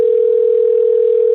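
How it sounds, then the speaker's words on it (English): An outgoing phone call rings on the line as a single steady electronic tone, loud and unbroken throughout, with no talking. "add Venison back to this call that's ringing"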